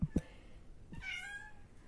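A cat gives a single drawn-out meow after a couple of soft thumps, fairly quiet and close, with no talking.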